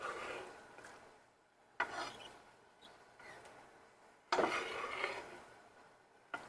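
Chopped onion tipped into a cooking pot at home, with two sharp clattering thuds and a scraping rustle as the pieces land and are pushed in, close and fairly quiet with no talking.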